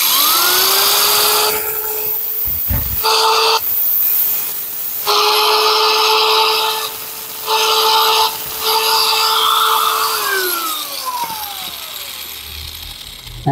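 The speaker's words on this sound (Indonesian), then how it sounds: "Tapi agak lumayan lama kalau pakai amplas, kita pakai gerinda saja." A power grinder trims down a wooden air-rifle stock in a steady, loud sustained whine with brief pauses and pitch dips as it bites into the wood, no voices.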